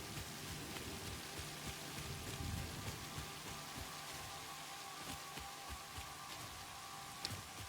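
Steady rain pours in the video game Satisfactory, a dense continuous hiss of drops striking surfaces with scattered patters throughout.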